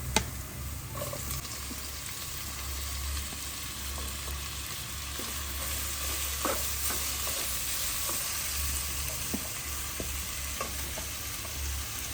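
Onions sautéed with ginger garlic paste in a pan, a continuous close sizzle and frying hiss with scattered spoon scrapes and clicks running throughout.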